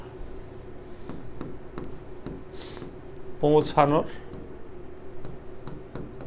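A pen writes a physics formula on paper or a board, a short scratchy scribble burst near the middle amid quiet background and faint taps.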